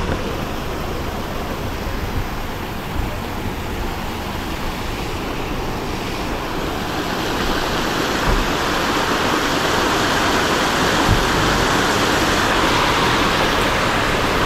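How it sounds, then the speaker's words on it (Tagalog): Steady, dense rushing of a flowing stream at a grotto water spring, loud and continuous throughout with no pauses and no voices. "Ang batis."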